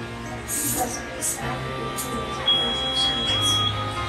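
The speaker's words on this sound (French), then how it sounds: "comme c'est le buzzer qui crie comme ça" An electronic buzzer on a small robot gives a thin, steady high tone for about a second, sounding under ongoing conversation and room noise.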